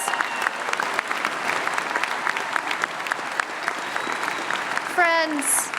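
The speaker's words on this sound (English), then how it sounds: "give yourself applause" Audience members at a university opening convocation applaud themselves, a steady crowd clapping wash with individual claps audible and a brief cheer or whistle near the end.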